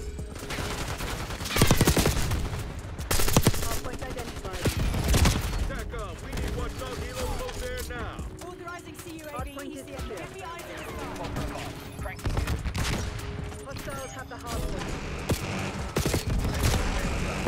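Black Ops 6 gunfire, much of it from an XMG loadout: dense, loud bursts of automatic fire and impacts crackle almost nonstop over busy game sound and music, with a player talking at times.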